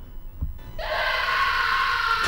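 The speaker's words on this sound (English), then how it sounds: "What was that? A male scream." A man screams in the Sega CD game Snatcher, a sudden sustained wailing cry that starts abruptly after a brief quiet moment and holds loud to the end.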